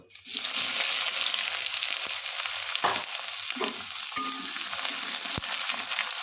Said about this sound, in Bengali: এবার পেঁয়াজ কুচিগুলো এতে দিয়ে দেব